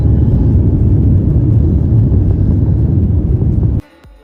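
Asiana Airlines A350 jet taking off, a loud continuous low engine roar and rumble inside the cabin that cuts off abruptly near the end.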